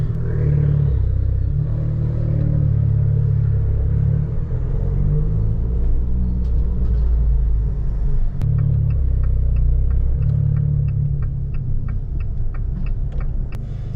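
Abarth 595 engine heard from inside while driving, a loud, deep continuous rumble and throb that rises and settles with throttle, with faint ticking clicks in the cabin during the latter half.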